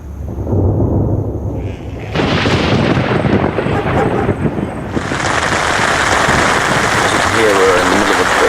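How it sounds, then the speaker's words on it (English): Heavy rain pouring down loudly in a thunderstorm with deep rumbling thunder beneath, intensifying into a dense hiss partway through. "Here we're in the middle of a rainstorm."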